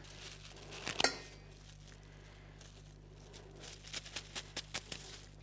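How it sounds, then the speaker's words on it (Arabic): An ordinary plastic freezer bag being opened in a home kitchen, giving a sharp crinkle and rustle followed by a run of light, quick crackling taps, close and fairly quiet, with no talking. "انا هفتح كيس اهو، كيس ثلاجه عادي خالص."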